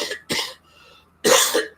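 Two quick close coughs from one person, then a short pause and a third louder, longer cough, all alone without other sound.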